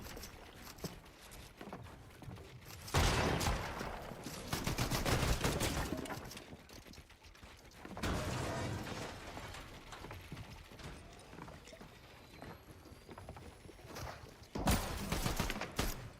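Sustained automatic gunfire in a video game shooter comes in three long, dense bursts, with mechanical rattling and quieter game ambience between them.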